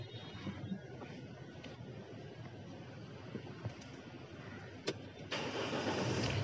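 A car starting up during a driving lesson on parallel parking, a low engine rumble running steadily throughout with a click and a louder surge near the end, close and fairly quiet.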